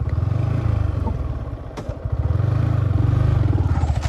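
Motorcycle ridden on a road with a passenger on the back, its engine rumbling loud and steady throughout, with brief clatter and wind noise.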